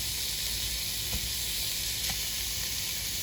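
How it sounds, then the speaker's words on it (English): Steady sizzling of ground beef frying in a hot pan, a continuous bright hiss with a couple of faint clicks of stirring. "you kind of want to move it around to keep that sizzle kind of going."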